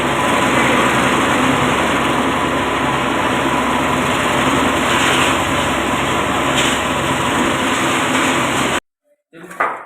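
An engine-driven grinding machine shreds sambung nyawa leaves with a loud, steady, high-pitched engine drone and rough chopping, then cuts out abruptly near the end.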